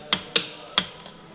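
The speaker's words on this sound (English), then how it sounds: "Torquing up the wheel bolts." Three sharp metallic clicks from a torque wrench as bolts on a caravan wheel are tightened in a workshop, close and loud, spaced unevenly with a faint fourth tick, without talk.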